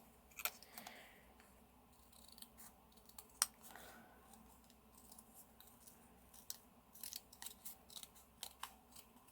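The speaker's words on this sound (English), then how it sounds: "I'm going to trim off the white space around this" Small scissors snip quietly and close by, trimming the white border off a thick paper bookmark, with scattered sharp cuts and pauses between them.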